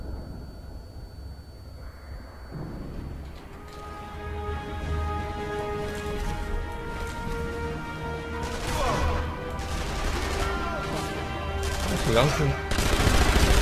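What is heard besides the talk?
gunfire in the video game Sniper Elite V2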